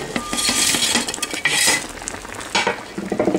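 Chinese rice manchurian being stirred in a pan, a utensil scraping and clinking against the metal over a steady sizzle, with short bursts of stirring close by and no talking.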